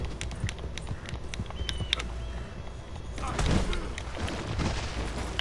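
Horse hooves clip-clop at a gallop in Red Dead Redemption 2, a steady drumming under game ambience with sharp gunfire-like bursts and a louder swell midway.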